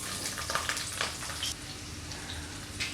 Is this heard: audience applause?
no